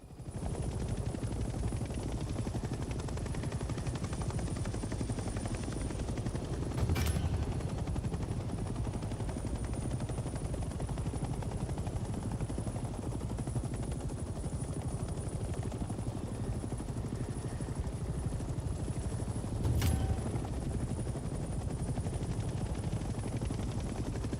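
A helicopter flies in the Vietnam-era game Hell Let Loose: a steady, faint rotor and engine drone runs throughout, with two brief sharp clicks along the way.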